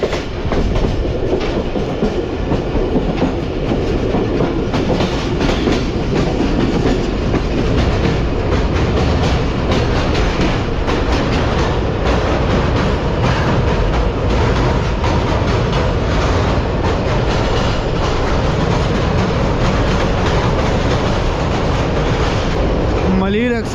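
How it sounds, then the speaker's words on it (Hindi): A Karachi Express train crosses the Malir River bridge near Landhi Junction in winter, its steady loud rumble and clickety-clack of wheels over rail joints filling the whole stretch without a break. "तो ये ट्रेन हमारे स्किप करने जा रही है मलिर रिवर ब्रिज को।"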